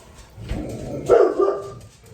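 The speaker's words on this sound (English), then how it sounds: "Dogs, dogs, dogs. There's a deer out there taunting them." Several dogs bark indoors at a deer outside, a burst of loud, close woofs and yips rising in the middle, set against kitchen background noise.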